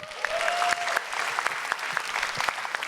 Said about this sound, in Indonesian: Tepuk tangan sekali lagi buat Erwin dari Stand Up Indo Jakbar.